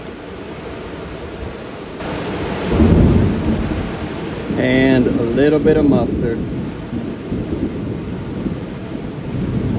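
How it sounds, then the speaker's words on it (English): Steady rain and rolling thunder during a South Louisiana storm, loud and continuous throughout, with someone briefly talking over it. "Sorry about the rain noise, folks."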